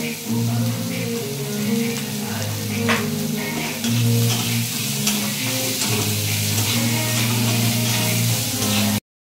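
Mushrooms sizzle steadily in a pan with chopped garlic and salt, with a loud, continuous frying hiss and occasional scraping as the mix is stirred. No one speaks.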